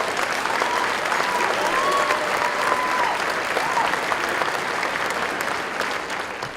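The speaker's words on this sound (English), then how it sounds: "Big round of applause." Sustained applause from a large crowd, steady and loud throughout, with a few faint tones in the background.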